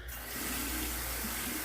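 A steady stream of water runs from a tap for rinsing during a shave, a continuous near hiss and splash with no break.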